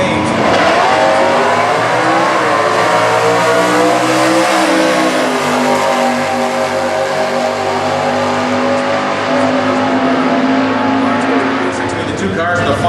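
A 1970 Motion Performance Camaro stock eliminator drag car accelerating hard at a national drag racing event, a loud continuous engine roar that rises in pitch and stays steady throughout, with a commentator's voice running over it.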